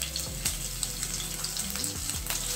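Whole spices — bay leaf, cumin and ginger — sizzle and fry in hot oil in a kadai for egg masala curry, a steady close crackle with a few low thumps and scrapes from handling the pan.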